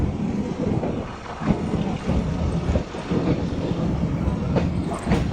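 A metre gauge train runs on the Chalala to Junagadh line, heard as a steady rumble with rail clatter and wind noise throughout, loud and continuous with no talk.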